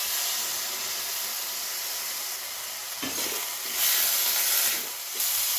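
Ground chili and ginger paste frying with potato and eggplant in a pan, a loud, steady sizzle and hiss with swells as the mix is stirred and turned.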